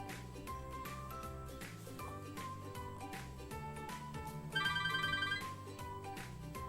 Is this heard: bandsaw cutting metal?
no